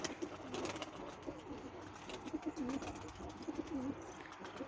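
Tumbler pigeons that have just landed back after a training flight give repeated soft, low cooing calls, several overlapping coos in a steady rhythm against a constant outdoor background hiss.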